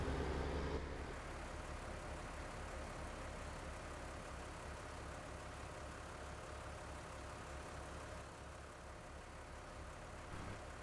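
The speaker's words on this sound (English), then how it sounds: "I think I'll just leave the case idling there" A Case tractor idles in Farming Simulator 19, a steady low engine drone holding at an even level throughout with no voices.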